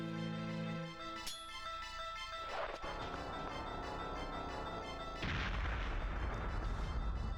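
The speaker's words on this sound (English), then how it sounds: "I'm gonna toss a grenade here." A grenade explosion in the first-person shooter Perfect Dark, a sudden loud blast with a long rumbling, noisy tail following earlier game tones.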